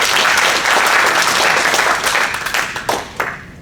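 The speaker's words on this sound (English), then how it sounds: "Let's give a big round of applause." An audience at a DevOps meetup in Vancouver applauds a speaker, a dense, loud wash of clapping that thins into scattered claps as it fades out.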